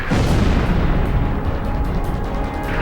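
A booming explosion from the video game Ace Combat 5, a dense, loud, sustained roar filling the whole clip with rumbling low end, no voices present.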